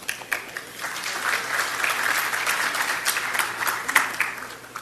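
Conference audience at an international congress on community relations gives a round of applause, a continuous, moderately loud patter of many hands with a few sharper individual claps standing out.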